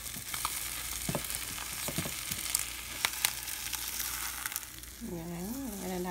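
Scrambled eggs sizzle and crackle in a hot pan, a steady close frying hiss broken by scraping stirs and clicks, with a voice talking near the end.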